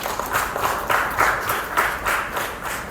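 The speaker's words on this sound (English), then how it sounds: "Another round of applause." An audience claps after an event at a tax clinic, with steady, dense applause that swells in regular pulses and holds at an even, fairly loud level throughout, no voices standing out.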